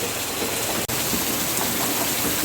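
Heavy monsoon-style rain in Dodamarg in the Konkan region pours in a loud, dense, unbroken roar, cut by one abrupt momentary dropout, with no thunder clearly standing out.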